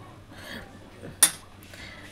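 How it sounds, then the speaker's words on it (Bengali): A metal spatula stirs fish curry in a pan, giving one sharp scrape-clink near the middle over a quiet, faint kitchen background. "আমি আবার খুন্তি দিয়ে ভালো করে নেড়ে দিচ্ছি"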